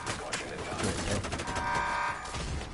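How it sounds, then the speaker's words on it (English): Rapid bursts of heavy tank autocannon fire in a video game, loud and dense, with faint voices underneath. "Auto cannon fire."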